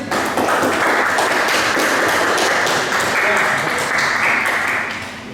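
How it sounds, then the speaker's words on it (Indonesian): Classroom applause for a student presenter, a steady wash of clapping hands filling the room for several seconds before tapering off at the end. "Tepuk tangan buat Mas Radit"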